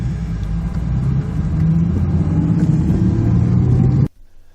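A big truck fitted with bright high-output lights rolls past at night, a steady close engine rumble building slightly and holding loud, then cutting off abruptly near the end.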